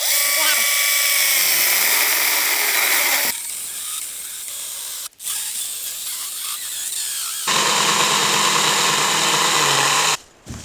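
A chainsaw with a 12-inch bar saws through a roughly 14-inch log, loud and steady, with bursts of high whining and short breaks as the cut goes on; a voice is heard in the clip.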